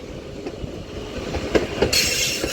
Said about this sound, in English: now departing is 331-109